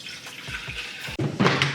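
Water runs from a tap into a robot vacuum's cleaning solution container, a short splashing fill that grows louder near the end, with no talk.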